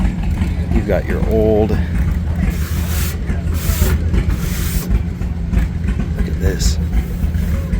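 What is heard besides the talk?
antique Caterpillar crawler tractor engine driving past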